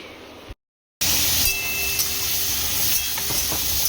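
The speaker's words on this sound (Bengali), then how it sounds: "আর এখানে হচ্ছে মাছ ভাজা।" Fish and live prawns frying in a pan give a loud, dense, continuous sizzling hiss, briefly cut to silence near the start and then steady throughout.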